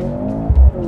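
A 2023 Mercedes-AMG C43 with a four-cylinder engine launches hard in a 0-60 run. A loud, close engine drone swells into a brief heavy low surge midway.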